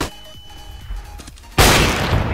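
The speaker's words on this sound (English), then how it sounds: "Throwing flashbang" Counter-Strike flashbang grenade going off: after quiet in-game ambience and faint footsteps, one sudden loud, bright burst that rings on through the final second, alone with no voice.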